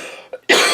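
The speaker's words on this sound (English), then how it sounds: "sorry, I keep coughing" A single sharp cough, preceded by a short throat sound, close and fairly loud.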